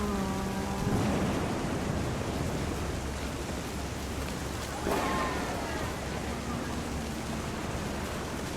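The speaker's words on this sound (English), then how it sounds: "Thunder sounded much too close and full of angry power." Thunder and rain in a video game: steady rain hiss fills the scene, with low rumbling thunder beneath, while brief melodic tones sound near the start and again midway.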